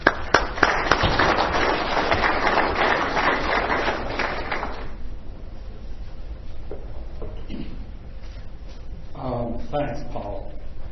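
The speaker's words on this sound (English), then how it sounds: "let's have a round of applause for Dale Bardos" An audience applauds a presenter at a talk, a dense burst of clapping that fills the first five seconds and then dies away, followed by a voice beginning to speak.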